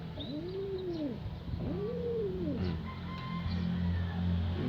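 Agitated pigeon cooing close by, two rising-and-falling coos in succession followed by quieter fluttery calls, over a low background hum with faint distant bird chirps.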